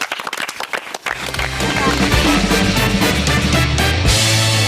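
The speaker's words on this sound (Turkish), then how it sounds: "Alkışlar Ayşe için." Studio audience applauding contestant Ayşe after her turn in an archery balloon-popping game show, starting with a few scattered claps and swelling into steady, loud clapping with music underneath.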